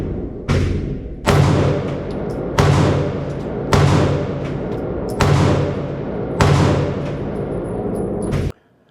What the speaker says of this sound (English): I believe anybody could probably shoot this gun as long as you're not overly recoil sensitive